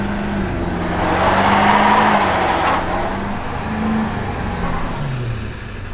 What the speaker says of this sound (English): So it'll do a burnout, but it doesn't sound very healthy doing it.